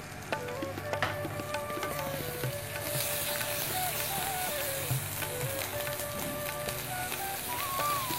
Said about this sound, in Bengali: এই যে মশলাটাও ভাজা হচ্ছে,